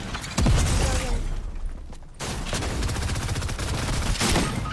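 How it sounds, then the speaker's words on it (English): Heavy gunfire during a Fortnite match, with a loud initial blast followed by a dense, continuous stretch of crackling shots and impacts, briefly dropping off midway before resuming just as intensely, close and loud. "Dang, he got me with a shotgun."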